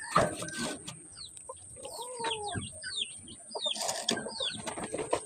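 Several chickens in a flock treated for fowl cholera cluck and squawk in overlapping bursts, with short chirpy calls scattered throughout against a steady background hiss.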